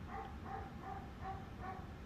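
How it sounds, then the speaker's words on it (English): A dog in the back of the room gives a series of faint, repeated barks and whimpers at a steady rhythm, distant and low against a constant background hum. "My dog will not stop barking."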